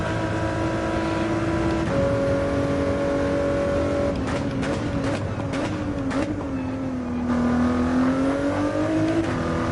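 A car engine drones steadily in a racing video game, its pitch rising and falling as the car speeds up and eases off, loud and continuous with a few brief rattling bursts partway through and no talking.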